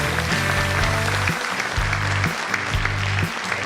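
An audience at a prayer meeting for peaceful Korean reunification applauds continuously, a dense wash of clapping that runs alongside sustained musical tones.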